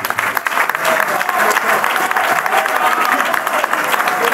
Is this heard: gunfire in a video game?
no